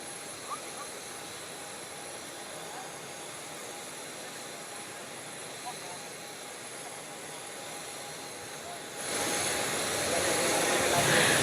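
Jet engine noise from the Indonesian presidential aircraft at an airport near Palembang, a steady whine and rumble that swells louder toward the end, with a faint background voice under it.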